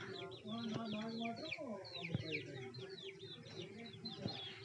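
Many small chicks chirp and cheep busily together, high repeated peeps close by, a speaking voice faintly underneath.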